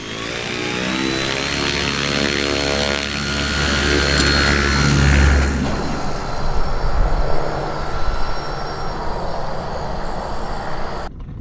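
An electric model airplane flies nearby, its propeller and motor producing a steady high whine that fades into a broader rushing, wind-buffeted drone in the second half, with no talking.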